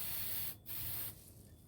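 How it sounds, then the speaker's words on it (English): Aerosol spray paint hisses steadily as Dollar Tree Halloween decorations are coated black. The sound is close and continuous, breaks off briefly, then resumes before stopping. "So I'm gonna finish spraying all these."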